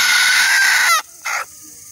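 A large desi chicken lets out one long, loud, harsh squawk up close, then a brief second squawk before quiet.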